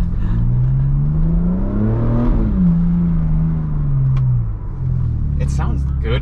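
A 2022 Ford Bronco Raptor driving offroad, its engine giving a low rumbling drone that rises and falls as it revs, heard from inside under ongoing conversation.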